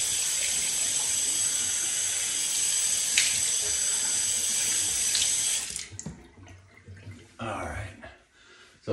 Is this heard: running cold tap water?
yes